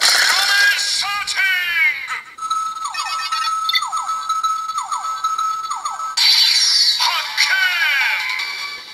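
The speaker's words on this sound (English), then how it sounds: "The first is the discovery sound, where you found something" A DX Shiny Kiramei Changer transformation toy plays its electronic discovery sound: loud, bright chirping tones and sweeping synthesized jingles, repeated in quick bursts and heard alone.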